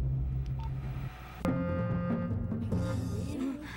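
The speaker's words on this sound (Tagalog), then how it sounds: "Oh, tatawagan ka na si Boss Matuto, ah" Cartoon-style telephone dialing in a children's math show, a quick run of electronic beeping tones after a low rumble, with a tonal ringing effect carrying over background sound.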